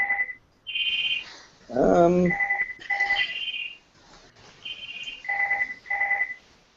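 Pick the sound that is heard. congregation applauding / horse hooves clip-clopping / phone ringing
phone ringing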